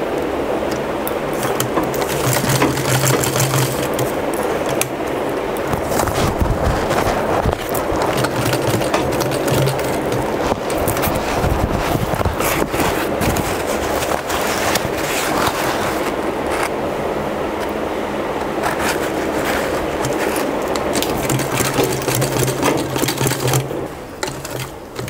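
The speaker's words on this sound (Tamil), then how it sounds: "தைக்கிறேன் வல்க்ரோ" A sewing machine runs steadily and loudly, stitching velcro onto a jute file folder, with a continuous rapid mechanical whir and brief pauses in pace over nearly the whole span.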